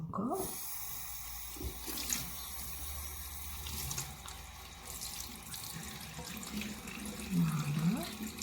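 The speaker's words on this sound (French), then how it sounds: "Une fois fini, laver à l'eau froide encore." Cold water runs steadily from a tap into a sink while a face is rinsed, a continuous splashing wash of moderate loudness with a brief voice near the start.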